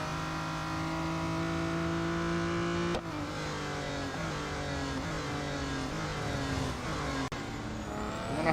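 A fully upgraded race car in the Real Racing 3 video game, its engine droning loudly and steadily with a sharp gear-change dip around the middle and another brief dip near the end, heard alone.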